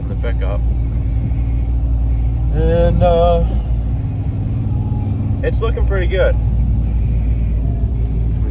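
A pickup truck with a freshly welded frame repair is on a rainy test drive, giving a steady low engine and road rumble throughout while someone talks over it.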